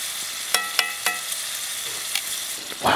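Onions and peppers sauté in a pan over a campfire with a continuous close sizzle, broken by a few sharp clinks and scrapes as a utensil stirs them.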